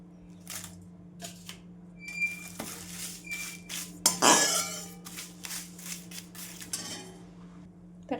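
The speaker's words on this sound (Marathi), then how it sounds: "तर याच कढईमध्ये आपल्याला तेजपत्ता पण थोडा परतून घ्यायचा आहे" Bay leaves are stirred and roasted in a metal kadhai, with a spatula scraping and knocking in irregular strokes and a louder burst of clattering partway through, with no talk.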